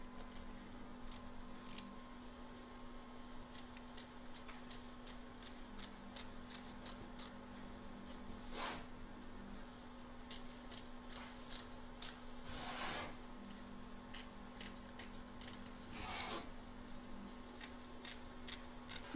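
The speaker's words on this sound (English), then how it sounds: "Trim up the excess fabric both front and back" Scissors trim excess fabric from both the front and back of a machine-embroidery hoop, giving a long run of quiet, close snips and clicks over a steady low hum, with no talking.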